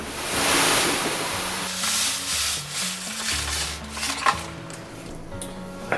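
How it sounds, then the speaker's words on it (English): Hops being stirred into a brew kettle of wort for a Mosaic double IPA, a steady swirling, rubbing slosh of liquid with soft scraping, continuous and close over about six seconds, with some faint tonal background. "Take a moment to stir some of these in."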